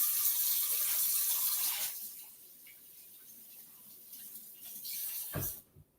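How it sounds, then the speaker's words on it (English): A kitchen tap runs steadily for hand washing, a close hiss of water that drops to a softer trickle after about two seconds, then ends with a brief clunk as it shuts off. "Wash my hands."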